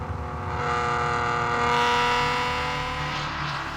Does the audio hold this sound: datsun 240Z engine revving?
yes